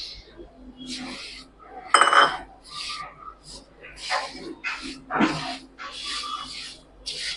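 Dry fruits stirred in sugar in a pan over low gas: light scraping and clinking of a spoon against metal in intermittent strokes, one sharper clink near the start, fairly quiet and close.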